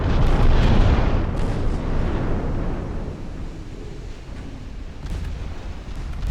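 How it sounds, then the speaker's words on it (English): Torpedo hits striking a battleship in the naval game Ultimate Admiral: Dreadnoughts: a heavy, rumbling boom at the start that slowly fades into a long, low roar, then a softer swell near the end, with no talking. "I got some torpedo hits"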